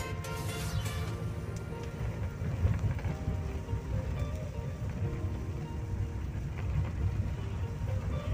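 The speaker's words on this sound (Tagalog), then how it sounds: "Gumagalit na kami ng wiper dito, mga tol, dahil sa lakas ng ulan." Heavy rain drums on a moving car on a road trip through Daet, Camarines Norte, heard from inside the cabin as a steady low rumble of road and engine noise that carries on without any voices.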